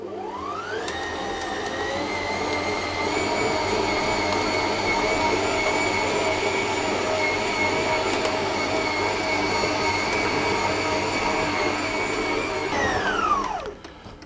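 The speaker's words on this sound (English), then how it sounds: "I'm now going to knead my dough on a medium speed for about 7 or 8 minutes until the dough is smooth" A stand mixer kneads bread dough for sub rolls at medium speed, its motor whirring up to a steady high whine with a rhythmic churning beneath, then spinning down at the end.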